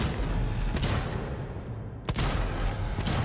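Gunfire in the sci-fi horror game Alien Isolation: a couple of sharp shots with a lull between them, heard over a constant low rumbling background.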